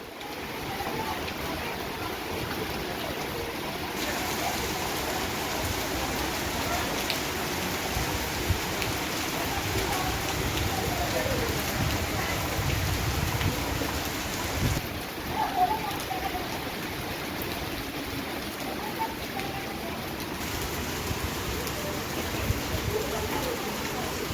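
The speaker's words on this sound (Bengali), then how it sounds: "তবে বেশ ভালো পরিমাণেই বৃষ্টি হচ্ছে" Heavy rain with gusting wind pours down steadily outside a house at night, a dense, even wash of hiss that stays at one level throughout, with no talk over it.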